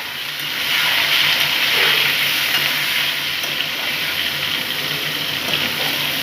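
Slim eggplants fry in hot oil, giving a steady, loud sizzle that swells slightly and then holds evenly close by, with no voices.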